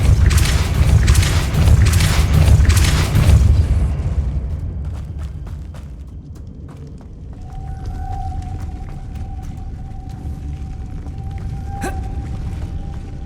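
In the video game Hogwarts Legacy, a cast Depulso spell bursts as a loud, broad whooshing blast lasting a few seconds. It fades into a quieter low rumble with a thin sustained tone.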